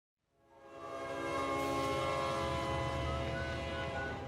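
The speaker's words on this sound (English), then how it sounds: "The train horns, man." Train horns swell in from silence, then sound as a loud sustained chord, steady and rich, with a faint rumble of rail traffic beneath and no talking.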